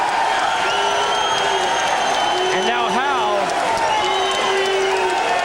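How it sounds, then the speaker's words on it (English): A crowd at a heavyweight boxing bout between Alex Stewart and Jamie Howe applauds and cheers steadily throughout, while a ringside commentator talks over the noise. "playing to the crowd, asking for applause"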